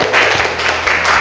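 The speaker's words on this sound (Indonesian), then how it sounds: "Tepuk tangan" A short burst of clapping and applause from a classroom group, dense and steady for about a second.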